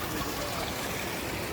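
Spring water flows straight out of the ground on a trail, a steady close trickle and gurgle that stays constant throughout with no voices.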